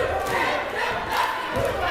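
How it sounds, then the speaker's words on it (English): Loud crowd noise in a high school gym during a varsity boys basketball game, a brief roar of voices and shouts with a thud underneath, echoing in the hall. "Really loud atmosphere for a minimal crowd here."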